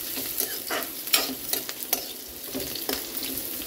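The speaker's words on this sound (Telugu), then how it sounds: "బ్రేక్ఫాస్ట్ సేమియా ఉప్మా వేస్తున్నా." Semiya upma frying in a hot pan, a steady sizzle with repeated scraping strokes of a spatula stirring it, close and fairly loud; no talking.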